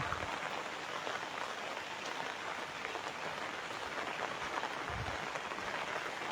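Steady rain falls over an open Eidgah prayer ground during the monsoon, a soft continuous patter of drops on surfaces heard at a distance with no voices, low and even throughout.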